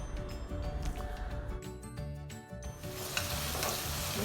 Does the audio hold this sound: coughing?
no